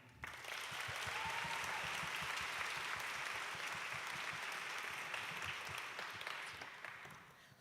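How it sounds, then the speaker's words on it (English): An audience applauds a panelist at a panel event, a sustained and even round of clapping that swells quickly, holds steady, and tapers off near the end. "Please, a round of applause for Anh My Lê."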